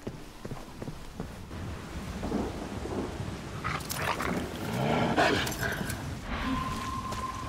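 In the video game Resident Evil 6, a dog is heard in a cemetery during a storm. Rumbling thunder and steady rain run throughout, with brief dog sounds rising midway.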